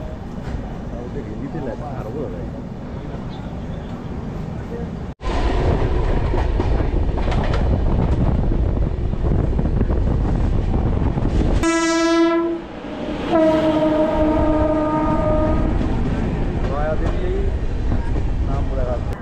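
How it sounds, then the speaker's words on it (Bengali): The Sealdah-Jammu Tawi Humsafar Express rolls into platform 2 of a station in Haryana, its loud rumble and wheel clatter steady under a long, loud train horn blast midway, followed by a second horn-like tone. "হরিয়ানাতে আমাদের এই ট্রেনটি ঢুকলো 2 নম্বর প্ল্যাটফর্মে"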